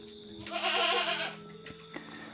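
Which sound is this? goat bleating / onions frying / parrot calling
goat bleating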